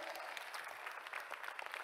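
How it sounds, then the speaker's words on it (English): An audience at the Dew Arena gaming event's grand finals claps in dense, steady applause, heard from a distance and fairly faint throughout. "Can I have a huge round of applause from everybody?"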